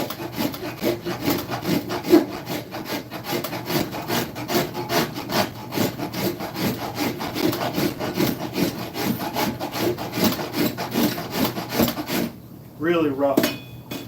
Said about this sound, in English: let's go to the farmer's file. I mean, farrier rasp.